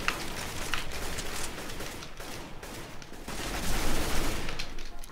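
Dense gunfire in Counter-Strike: Global Offensive on the Aztec map, loud and close, continuous overlapping bursts and rapid shots running throughout with no pauses, no talking.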